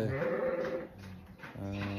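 Sheep and newborn lambs bleat close by, with several overlapping wavering calls that rise and fall across the whole stretch and no talking.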